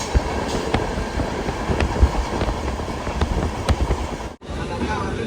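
Brindavan Express rolling along the rails through dry hill country, a steady rushing rumble with periodic wheel clicks throughout, dipping briefly near the end before resuming.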